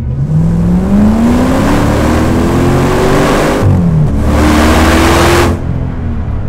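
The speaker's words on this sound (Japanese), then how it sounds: "ちょっと加速してみましょうか。" A Land Rover Defender 90 Works V8 engine revs up and accelerates hard from low gear, its rising pitch climbing steadily, with a brief gear-change dip midway before pulling again.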